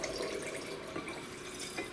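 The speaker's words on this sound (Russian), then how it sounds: "заливаем воду." Water is poured into distillate in a glass, a soft trickling and splashing that runs steadily for a couple of seconds with no talking.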